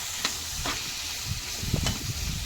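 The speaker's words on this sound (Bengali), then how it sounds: "তারপর পেঁয়াজ আর ক্যাপসিকামগুলো তেলে ভেজে নিলাম ভালোভাবে" Chopped onions and capsicum sizzle in hot oil with garlic, a steady frying crackle broken by a few soft scrapes of stirring.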